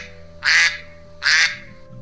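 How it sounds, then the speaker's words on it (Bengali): A cartoon duck gives two distinct nasal quacks, each about a quarter second long, spaced under a second apart over a quiet low hum, close and clear. "তখন সে মনের সুখে আবার প্যাক প্যাক করে গান ধরতে লাগলো।"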